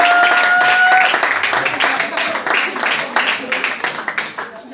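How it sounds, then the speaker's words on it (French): A crowd applauds graduates at a certificate ceremony, starting as a full dense burst and thinning into scattered, individual claps that fade out, with a voice speaking over part of it. "je demande à tout le monde d'applaudir pour vos amis."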